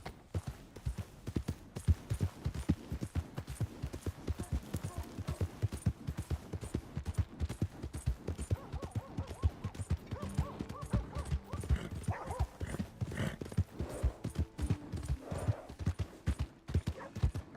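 Horse hooves clip-clopping in Red Dead Redemption 2, a quick, steady train of close, crisp hoofbeats running throughout, with faint tonal game sounds rising underneath partway through.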